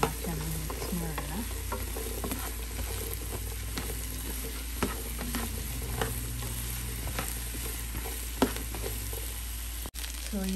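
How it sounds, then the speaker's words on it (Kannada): Cut okra frying in a pan with onions for a Punjabi-style bhindi fry, stirred steadily: a continuous low sizzle runs under repeated spoon scrapes and clinks, close up, with no talking. "ಕಟ್ ಮಾಡಿರೋ ಬೆಂಡೆಕಾಯಿ ಹಾಕ್ತಾಯಿದ್ದೀನಿ. ಚೆನ್ನಾಗಿ ಮಿಕ್ಸ್ ಮಾಡೋಣ."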